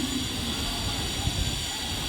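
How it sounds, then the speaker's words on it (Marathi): A Mumbai local train at a railway station platform gives a steady, continuous rumble of rolling stock for the whole stretch, with no talk. "प्लॅटफॉर्म क्रमांक 1 पर आई हुई लोकल 10:20 की ठाणे जाने वाली धीमी लोकल है।"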